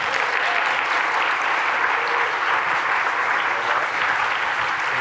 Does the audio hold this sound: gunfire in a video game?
no